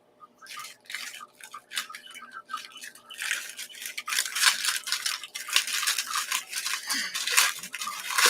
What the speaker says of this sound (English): You can't talk while I'm crinkling a bag.